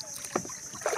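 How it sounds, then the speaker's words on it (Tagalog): A small bangka boat moving across the sea, with wind buffeting the microphone and brief splashing or knocking sounds. "Matakbo na yung bangka."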